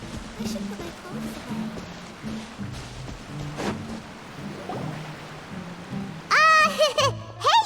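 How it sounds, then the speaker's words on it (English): Rain in the video game Genshin Impact falls as a soft, steady hiss across the whole stretch, with low background tones beneath and a brief voice rising near the end. "Oh, it's raining."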